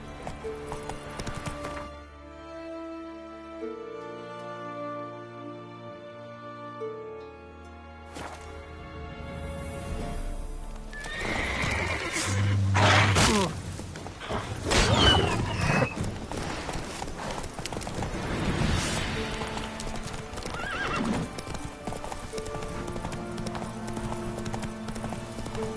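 Roach the horse in The Witcher 3 galloping, with rhythmic hoofbeats running steadily under music, plus whooshes and a brief whinny, loud and close.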